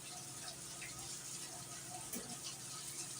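Tres leches milk mixture pours steadily over a banana pudding cake in a 13 by 15 baking dish, a soft, continuous liquid wash heard quietly and close, with no voices.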